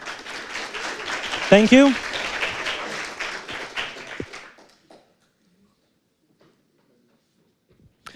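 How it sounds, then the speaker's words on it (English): Audience applause at a tech talk on Python and IoT, a burst of clapping lasting about four seconds before cutting off into near silence, with a brief spoken thanks over the start. "So applause first."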